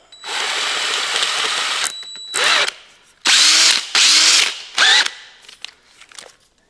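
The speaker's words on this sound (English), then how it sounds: "I'm going to take this and put it right into cordless drill and tighten that up" A cordless drill whirs steadily for nearly two seconds, then revs in several short bursts separated by pauses, loud and close.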